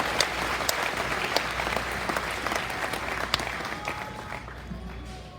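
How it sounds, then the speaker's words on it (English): An audience at a youth market goat show at the 2018 Arizona National livestock event claps steadily, a dense sustained round of applause from a large crowd that fades slightly toward the end. "give these kids a big round of applause"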